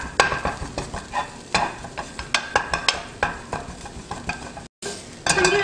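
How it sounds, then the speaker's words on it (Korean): Minced beef stir-frying in sesame oil for bibimbap: a steady soft sizzle with repeated scraping strokes of a spatula against the pan, close and fairly loud, with no talk. "덩어리지지 않게 볶아줍니다."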